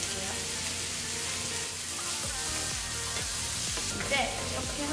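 Meat and onion sizzling in a frying pan while sizzling rice crepes are prepared: a steady close hiss of frying oil runs throughout, with a few soft clinks and stirring scrapes in the middle.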